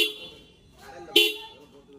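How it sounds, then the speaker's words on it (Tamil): Two short, bright toots from a Bajaj Pulsar 220F BS6 motorcycle's dual horn sound close by, the second louder and sharper, with a soft background between them. "ஸோ ஹார்ன் சவுண்ட் கேட்டிருப்பீங்க"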